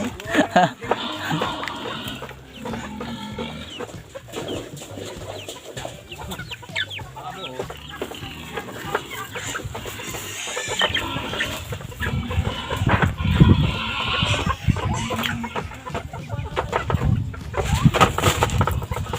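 Chickens cluck and squawk nearby in a steady flurry, with people talking intermittently over the birds.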